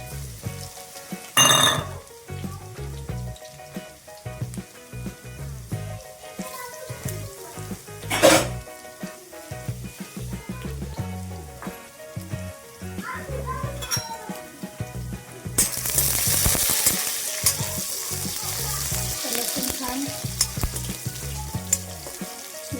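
Chopped garlic sautéing in a pan for a chakvat leafy greens dish: a steady close sizzle and frying hiss with occasional spoon clinks against the pan, growing louder and denser toward the end, no talking.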